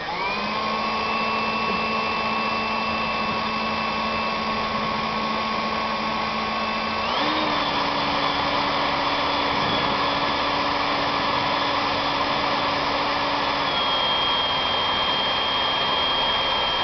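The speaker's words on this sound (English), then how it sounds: "drill bits, they drill better at a medium speed than the high speed" A steady high-pitched power drill whine runs continuously while drilling aluminum solar panel framing, shifting pitch slightly partway through, with no talking.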